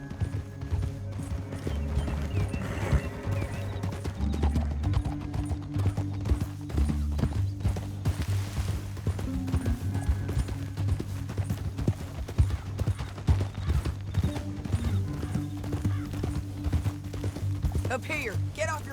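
Horse hooves clop in a steady rhythm in Red Dead Redemption 2, going on the whole time under a music score, with a short neigh and some speech mixed in.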